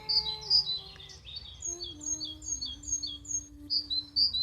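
Lots of birds sing on a bright Saturday morning in a garden, with bright repeated chirps and tweets layered over one another and continuing without a break at moderate loudness.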